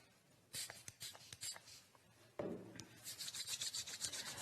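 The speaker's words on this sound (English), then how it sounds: "Rub, rub, rub your hands back, inside and forth." Hands rubbed together with sanitizer, close and soft, with a few brief rubbing strokes and then a longer stretch of steady, rhythmic friction.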